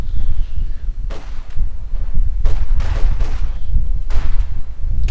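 Sharp gunshot cracks and bursts of rifle fire from a Company of Heroes 2 battle, with a grenadier squad taking sniper fire, erupting repeatedly over a dense rumble of combat noise.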